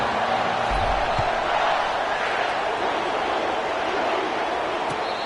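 A large home crowd at a football game gives off a steady, distant roar of cheering that holds level for the whole stretch, with a commentator's voice faintly underneath.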